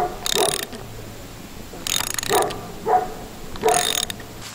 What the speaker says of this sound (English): Take a socket and a ratchet, a socket big enough to fit over the head, and then just use that to turn it in